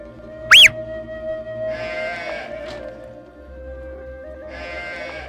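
Sheep bleating in the quiet Khada valley of Georgia, a couple of clear calls standing out over a steady hum of flowing water and faint rural background, with a brief squeak early on.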